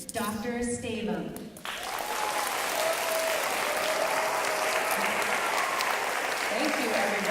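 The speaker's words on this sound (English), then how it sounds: "Please give a warm round of applause to our superintendent, Dr. Stavem." Enthusiastic audience applause greets the school superintendent at the grand opening of Ella Baker Elementary School. Brief speech comes first, then loud, sustained clapping fills the remaining seconds.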